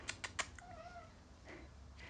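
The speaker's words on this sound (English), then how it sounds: "Sorry, distracted by the cat." A house cat meows indoors: a couple of short, faint-to-moderate meows with a drawn-out tonal cry in the middle, followed by softer mews against a quiet room with a few sharp taps at the start.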